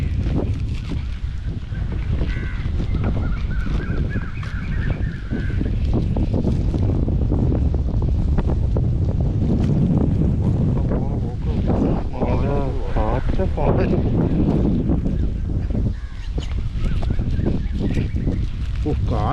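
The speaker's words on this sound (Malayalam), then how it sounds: "കാറ്റുള്ളത് കൊണ്ടൊരു ആശ്വാസം ഉണ്ടല്ലോ" Wind blows steadily across a small fishing boat on the Kuttanad backwaters in Kerala, a constant rough rumble with gusty buffeting against the microphone. Faint voices come and go beneath it.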